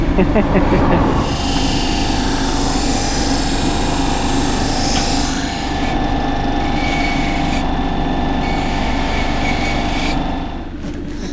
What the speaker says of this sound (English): see this guy sharpening knives, and our knife is as blunt as, so we're going to get it sharpened